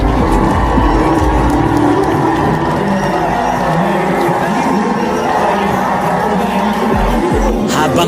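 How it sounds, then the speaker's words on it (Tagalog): A packed boxing arena crowd roars and cheers continuously as a fighter walks in, a loud sustained wall of shouting and chatter with no breaks, a brief sharper burst near the end. "Pagpasok nito sa arena ay naghihiyawan ng mga tao."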